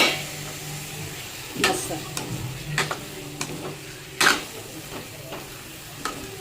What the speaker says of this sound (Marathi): आता हे अंडे टाकते मी त्याच्यामध्ये आणि हे अंडे परतून घेऊया